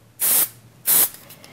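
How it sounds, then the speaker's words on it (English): Two short hissing bursts of hairspray, close and crisp, separated by a brief pause. "just spraying real lightly,"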